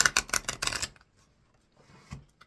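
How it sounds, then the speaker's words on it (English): New, slippery playing cards are riffled in a quick burst of rapid flutters, then brief quiet and a softer shuffle sound near the end. "I'm going to shuffle the cards here for you guys that like that sound."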